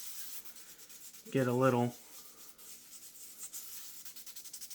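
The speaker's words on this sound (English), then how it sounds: "Just try to scuff it up." Abrasive scuffing of a wooden shaving brush handle produces soft, close rubbing strokes in a quiet rhythm, with a short spoken phrase briefly over it.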